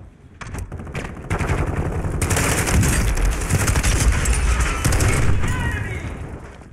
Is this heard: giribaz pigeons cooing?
no